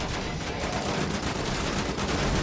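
Continuous loud gunfire in Wolfenstein: The New Order, a dense rattling barrage with no pauses, close and heavy throughout.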